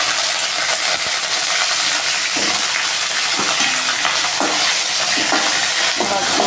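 Eggplant sautéing in hot oil in a pan, a steady loud sizzle with stirring clatter, no talking.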